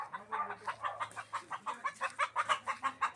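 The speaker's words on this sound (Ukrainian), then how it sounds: "Воно вже курей понаходило." Chickens clucking in a village yard, a steady run of short rhythmic clucks close by with a low hum underneath and no talk.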